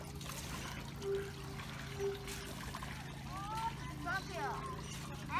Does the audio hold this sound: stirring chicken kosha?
no